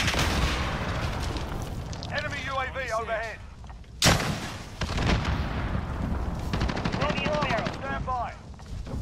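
Call of Duty Modern Warfare battle with heavy gunfire and a sharp, loud cruise missile blast striking midway, amid ongoing shooting, with radio voices talking over the combat.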